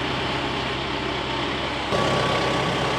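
A Kubota tractor's diesel engine runs steadily up close, a constant low rumble that shifts to a slightly louder, rougher pitch partway through.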